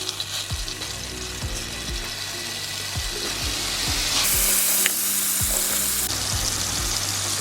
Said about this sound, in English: So this is the tempeh that we're going to fry off now.